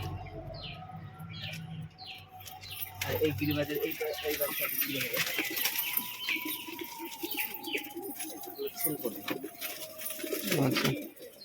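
Soft pigeon coos and a few chirps sound nearby while a person talks over them, with an occasional rustle of wings.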